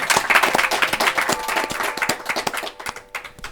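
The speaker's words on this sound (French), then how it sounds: "on peut l'applaudir. C'est une très belle performance." Studio audience applauding a rap contestant's strong score on a TV show, dense clapping that fills the room, loud at first and gradually thinning toward the end, with a few whoops mixed in.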